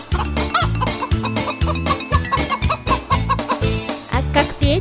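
Short clucking calls repeat in quick bursts over a lively, steady musical rhythm, like hens imitated in a playful children's tune.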